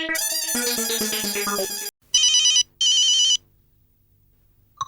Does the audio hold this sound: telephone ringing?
yes